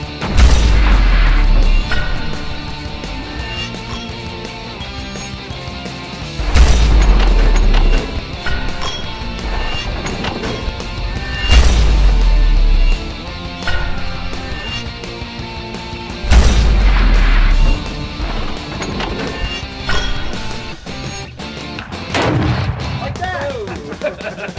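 Semi-automatic and fully automatic gunfire through an XTech Tactical MAG47 magazine during extensive testing, with loud booming volleys recurring roughly every five seconds over a dense, busy background.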